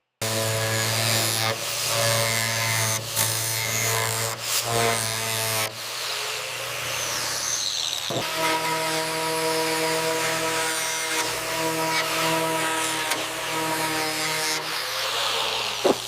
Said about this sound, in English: Start the sanding disc at a low to medium speed, touching the panel gently with minimal pressure.